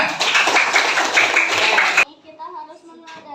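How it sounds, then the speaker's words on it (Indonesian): Audience clapping in a room at an Islamic religious lesson, about two seconds of dense steady applause from a group, stopping abruptly as a voice begins speaking. "sekali lagi tepuk tangan untuk semuanya"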